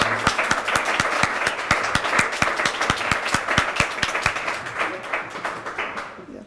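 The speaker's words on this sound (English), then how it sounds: "please give him a hand of applause" Audience applause at a launch event, steady dense clapping from a crowd with a few sharp louder claps, sustained then thinning out toward the end.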